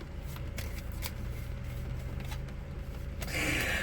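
Tarot cards shuffled by hand in a quiet room, a continuous papery riffling with soft flicks, growing louder and brisker in a final burst near the end.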